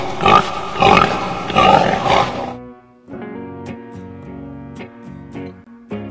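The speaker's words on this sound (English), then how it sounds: "Pig." Three loud, rough grunting squeals from a pig in quick succession, then light plucked music continues alone.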